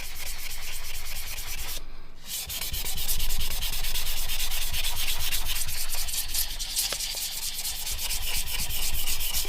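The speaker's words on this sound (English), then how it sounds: "the water kind of washes away the debris that you're sanding off, so it doesn't clog up your sandpaper" Continuous rhythmic rubbing of wet-and-dry sandpaper wet sanding nitrocellulose lacquer on a guitar pedal, with a slightly wet, gritty texture, close and steady with one brief pause.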